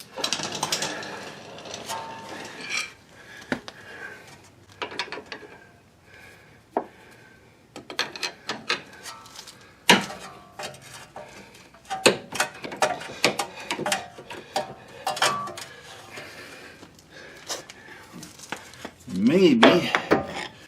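Metal clanks and knocks ring out in irregular bursts as a stuck toe link on a 2011 Ford Edge is hammered, some blows sharp and close, with a brief voice near the end.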